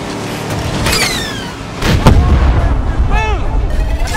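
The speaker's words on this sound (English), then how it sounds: "Yeah, rockets are firing." Rockets fire in the racing video game Cars 3: Driven to Win, loud booming blasts and whooshing streaks over a constant roaring game mix of engines and effects.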